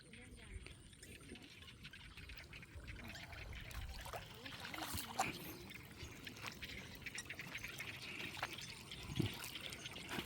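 Water trickles and flows faintly through flooded rice fields whose dikes overflow after rain, a soft continuous dribble beneath a person talking.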